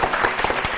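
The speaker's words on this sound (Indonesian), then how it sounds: "beri tepuk tangan untuk kedua tim" Brief burst of studio audience clapping on an Indonesian TV quiz show, dense and steady, lasting under a second.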